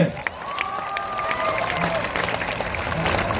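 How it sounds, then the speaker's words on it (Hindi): Crowd applause and cheering at a Jan Suraaj party founding convention, a dense, steady roar of clapping that fills the space, with voices mixed into the noise. "इनके लिए ताली बजाइए जोर से"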